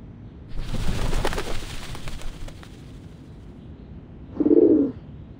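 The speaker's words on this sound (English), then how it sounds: "The doves of the Whitestone House are here." Doves at Whitestone House in the game Reveese give a short soft coo near the end, following an earlier rumbling burst of ambient noise.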